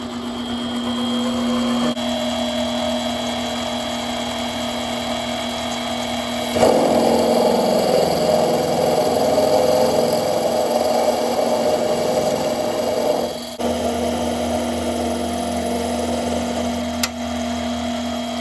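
A Grizzly metal lathe is switched on and runs forward with a steady motor hum and whine. The tone becomes rougher and louder partway through and then settles back. No one speaks.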